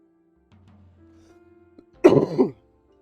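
A single harsh cough burst from a person, near and loud, after a stretch of faint low hum and quiet.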